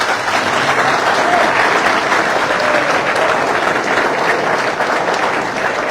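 Villagers of Sarnaghbyur clap together in dense, sustained applause, loud and even from start to finish, with no break in the crowd's rhythm.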